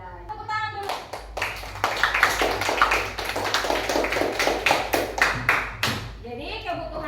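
A school class claps hands together in a quick burst of rhythmic clapping, framed by a teacher's voice before and after and faint children's voices.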